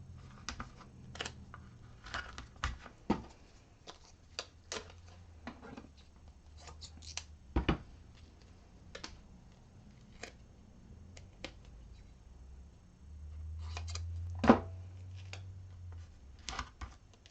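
Gorilla Tape or duct tape being cut into smaller pieces with scissors for bag making: scattered faint snips, rustles and taps at an irregular pace, close up, with a low background hum and no talking.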